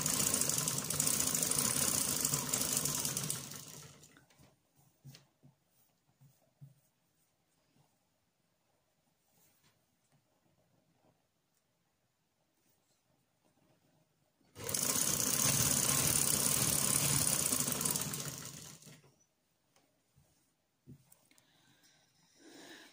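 A sewing machine stitches cord onto fabric for an angrakha side slit, running in two loud, steady bursts of rapid whirring several seconds long, separated by a quiet stretch with faint handling clicks.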